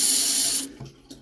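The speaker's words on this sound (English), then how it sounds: "Got hot water going in there." Hot water gushes steadily from a tap for about half a second, then cuts off, leaving a couple of quiet clicks and light handling sounds.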